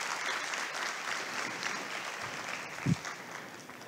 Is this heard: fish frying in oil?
no